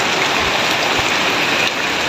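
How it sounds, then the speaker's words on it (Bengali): Heavy rain pours down in Pahang, Malaysia, a dense, loud and continuous wash of drops striking surfaces close by, with no speech. "মালয়েশিয়া পাহাং ডিস্ট্রিক্টে আজকের এই বৃষ্টি ধারা।"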